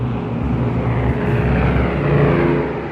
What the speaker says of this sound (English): I heard the roar of a plane.